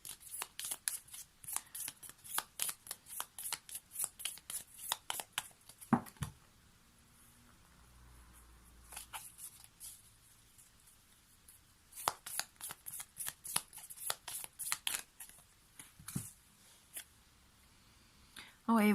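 Tarot cards shuffled in bursts of rapid, crisp riffling clicks near the mic, pausing in a quiet stretch midway before resuming.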